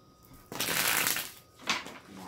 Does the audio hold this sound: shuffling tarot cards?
yes